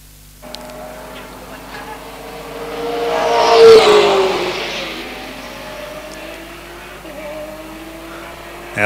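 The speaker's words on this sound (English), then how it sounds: "There's the Hughes Ross car across the start-finish stripe." An endurance race car on a North Island circuit swells from a distance to a loud engine roar as it crosses the start-finish line, then fades away, with a commentator's voice faintly underneath.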